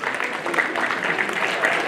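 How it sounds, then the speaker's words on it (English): A school audience claps for elocution contest participants, a brief, dense round of applause at moderate volume. "Let's clap for them one more time."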